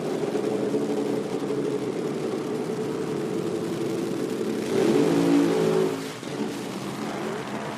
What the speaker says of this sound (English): once again, we got a throttle hung up on the burnout